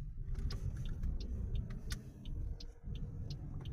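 Car driving along a road in Trento, Italy on a clear day, with a steady low engine and tyre rumble throughout and faint higher ticks over the continuous drone.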